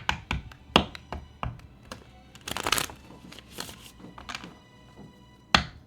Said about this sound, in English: A little bit of ASMR card shuffling.